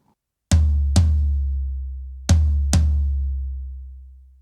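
A floor tom damped with two Remo Crown gel mufflers, struck four times in two pairs, each hit giving a sharp attack and a deep, ringing low tone that decays slowly.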